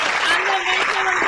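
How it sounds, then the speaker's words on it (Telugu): Children clapping together in a group for a short burst while a voice talks over the applause. "ఇప్పుడు క్లాప్స్ కొడదాం"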